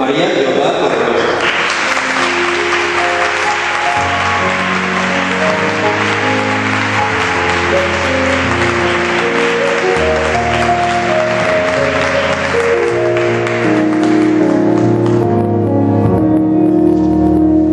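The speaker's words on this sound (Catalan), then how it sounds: "Premiem amb un fort aplaudiment Maria Jordà Correrosa." An audience applauds loudly and steadily at a 2015 Valencia Fallas presentation event for the Tetuan de Xàtiva falla, the clapping running under music with shifting tones for most of the stretch before fading near the end.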